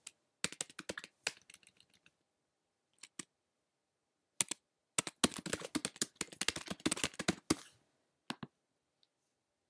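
Typing on a computer keyboard, close and crisp, with quick bursts of key clicks separated by short pauses and a dense run of keystrokes in the middle.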